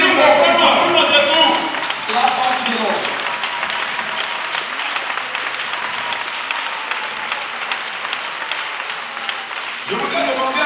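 A church congregation at a regional convention in Benin applauds and cheers for the Lord, sustained clapping and voices filling the hall for about ten seconds, louder at the start and swelling again near the end.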